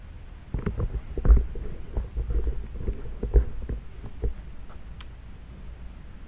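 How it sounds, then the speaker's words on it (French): Zodiac CNX 30 robotic pool cleaner running and suctioning debris in a pool, a low, uneven rumbling churn with soft knocks and bumps, steady and fairly quiet throughout. "ah bah non, ça y est, c'est en route, ça commence à aspirer des saloperies"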